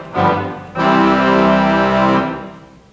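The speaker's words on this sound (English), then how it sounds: "One of them is the reeds, which are like the clarinets or the trumpets in the orchestra." A theatre organ's trumpet-like reed pipe stops sound a short bright tone, then a longer sustained chord that holds steady for about a second and a half before fading, loud and alone.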